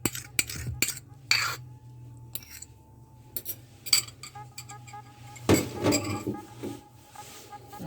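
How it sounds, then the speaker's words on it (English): Metal utensil scraping and clinking against a mixing bowl of Easter bun batter, a series of short, fairly close scrapes and taps with a louder clatter near the end, over a low steady hum. "now scrape out everything"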